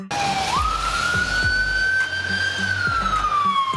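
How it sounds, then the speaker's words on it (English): Czech Republic police car siren sounding a single long electronic wail that rises, holds high and slowly falls, loud and close over steady road noise, no voices. "This is the police car of the Czech Republic"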